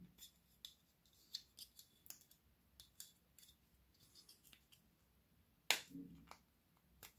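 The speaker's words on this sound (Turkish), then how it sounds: "Paketi de yeni açıyoruz sizinle birlikte." A package holding pink fishing line for light rockfishing is opened by hand, with a series of quiet, close crinkles and clicks followed by one sharper tearing snap near the end and no talking.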